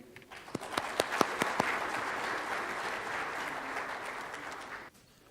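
A seminar audience applauds to welcome a speaker, a few sharp claps at first swelling into sustained clapping that fills the room for several seconds before stopping abruptly.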